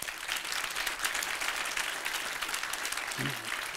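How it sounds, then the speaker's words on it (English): A conference audience at the code::dive 2019 programming event welcomes a speaker with steady, moderately loud applause from many hands, and a brief voice is heard near the end. "Please give him a round of applause"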